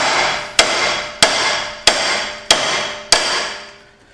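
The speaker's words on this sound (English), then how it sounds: "Now we just give this a couple whacks." Five sharp metallic hammer blows strike a suspension part on a 5.0 Mountaineer SUV, evenly spaced about half a second apart, each ringing briefly before the next; loud and close with no talking.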